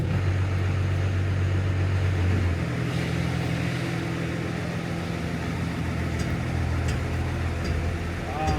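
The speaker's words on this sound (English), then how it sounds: "Ah, the lovely sound of the diff." Differential whine and clicking from a first-generation Cummins 12-valve dually pickup, a steady low drone with a tonal band shifting partway through, faint clicks later, loud and close.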